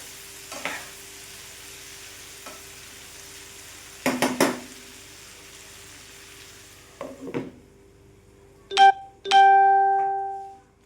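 Punjabi garlic potato chips cooking in a pan, a faint low sizzle broken by a few sharp clanks and scrapes of utensils on the pan, ending with a louder ringing metallic clatter.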